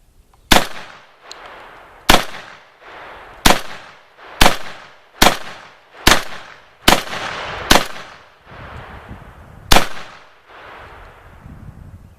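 A Remington Versa Max tactical shotgun fires eight loud, booming shots outdoors at a range. They come in a fairly steady rhythm about a second or so apart, and each blast rolls away into a brief echo.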